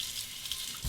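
Water running from a tap while rinsing after a shave with Ivory soap: a brief, steady hiss of flowing water, close and alone.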